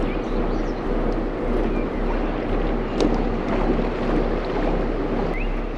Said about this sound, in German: Wir legen ab und drehen erst einmal in den schmalen Hafen.